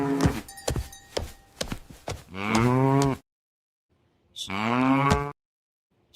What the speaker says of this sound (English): I think Ted would like the mooing